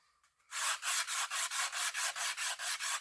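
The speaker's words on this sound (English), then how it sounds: "you just want to get the sandpaper" Heavy-grit wet sandpaper rubbed along the edges of a piece for an HMS Queen Elizabeth model build: about a dozen quick, even back-and-forth scraping strokes, close and loud after a brief quiet start.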